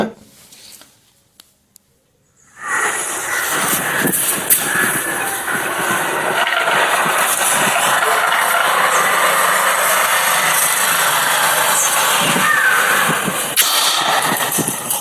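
A homemade MJ-47 monkey repeller gun, loaded with Lifebuoy spray, starts after a short quiet with a couple of faint clicks, then gives a loud, continuous roaring hiss that holds steady and close for over ten seconds.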